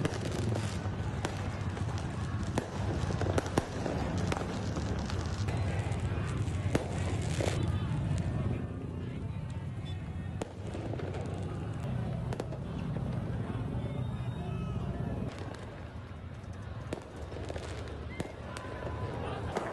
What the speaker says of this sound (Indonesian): Letusan kembang api terlihat mengudara di kawasan Bundaran HI.